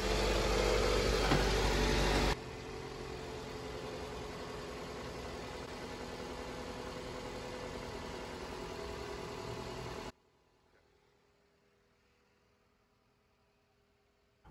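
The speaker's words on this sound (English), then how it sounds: "Now that it's cranked up." A car engine idles steadily after a jump-start of a dead battery, loud and close at first, then a constant quieter hum before cutting to near silence.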